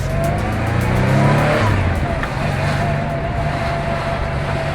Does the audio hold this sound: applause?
no